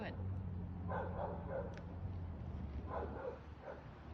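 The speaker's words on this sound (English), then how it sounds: "that's somebody else's dog barking all day too" A neighbour's dog barks in the distance, a few faint woofs in short bursts under a steady outdoor hum while people talk nearby.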